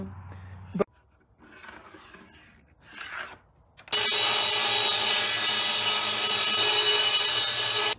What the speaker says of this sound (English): I got every single board cut.